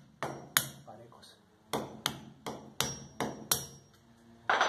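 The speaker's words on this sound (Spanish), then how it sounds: "Y damos unos golpes hacia adentro." A hammer taps a Smart TV wall mount bracket into place, about a dozen sharp, ringing metallic blows in an uneven rhythm with short gaps, close and crisp in a quiet room.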